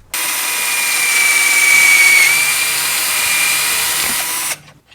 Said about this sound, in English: Now it's very secure and tight, so